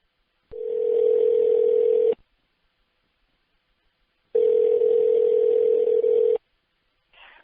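Telephone dial tone on a call to a voicemail inbox, a loud steady hum sounding twice for about two seconds each with silence between, then a brief third start at the end.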